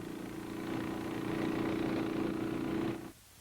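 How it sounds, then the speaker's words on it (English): A tunnel blower fan's engine runs steadily at close range, a low droning hum that holds for about three seconds, then stops abruptly. "After all openings are sealed, the engine is started."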